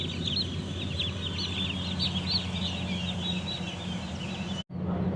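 Many chicks on a poultry farm chirp continuously in a dense overlapping chorus, a busy bright chatter close by that drops out briefly near the end before resuming.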